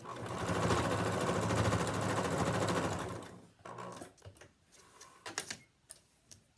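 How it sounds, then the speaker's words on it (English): A sewing machine stitches a seam on a fabric face mask in a fast, steady rhythmic run of about three seconds. It stops, and quieter handling and clicking of the fabric follow. "And I'm just going to stitch that down."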